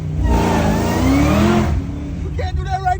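A Chevrolet Caprice Classic fitted with an LT4 V8 revs up in a loud, close rising roar that holds, then drops away as a voice talks over the tail end.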